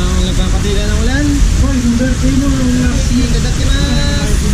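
Steady rain falls on a mountainside at Mount Arayat, Magalang side, in Pampanga, a dense continuous wash under voices talking nearby.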